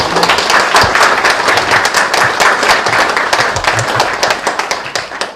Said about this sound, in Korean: 교수님께 다시 한번 큰 박수 부탁드리겠습니다.